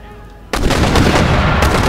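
A sudden, heavy burst of massed musket and artillery volley fire erupts in the video game Empire: Total War, loud and sustained after a brief quieter lead-in, with rolling booms and crackling shots layered together.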